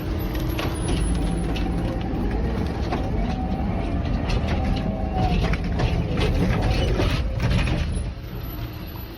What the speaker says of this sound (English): A powerful hydraulic cylinder pushes the logs against a hardened steel wedge.